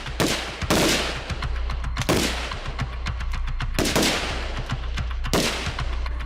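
Rifle fire on an outdoor shooting range from the berm, loud sharp reports spaced irregularly, several shots close together then pauses, each with a ringing tail.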